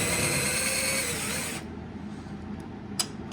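An RCBS Trim Pro 2 power case trimmer cuts a 300BLK brass case with a close, loud, steady whine that stops partway through, followed by quiet handling and a small click.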